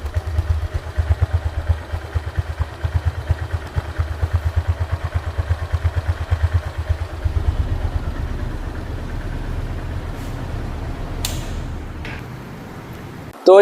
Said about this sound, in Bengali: তো রানিং অবস্থায় গাড়িটি সাউন্ড শুনুন তো